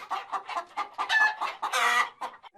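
A chicken clucks in a quick, uneven series of sharp, close calls, rising into a louder, strained squawk near the end.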